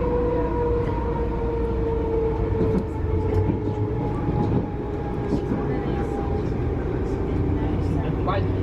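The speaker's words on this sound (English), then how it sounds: "It's a nice train, it just jogs along." A Vivarail train on the line to Bedford rumbles steadily along the rails with a constant low drone and faint squealing tones, moving at an easy pace, with some voices underneath.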